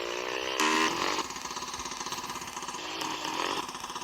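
A newly bought motorcycle's engine running close by, a rough buzzing idle with a brief rev near the start and a steady pulsing drone afterward, no talk.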